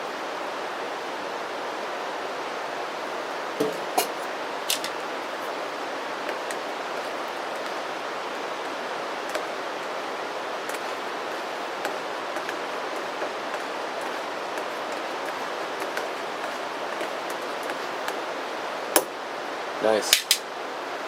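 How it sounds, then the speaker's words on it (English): Water in a canteen cup on a gasifier stove starts to bubble, giving a steady broad hissing, rushing sound with scattered small pops and ticks, fairly close and continuous throughout. "Just starting to get some bubbling."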